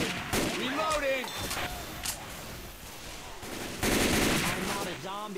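Gunfire from Left 4 Dead 2 as players shoot zombies in a sugar mill: repeated loud bursts of shots, with a heavy sustained volley near the end, under game voices and character chatter.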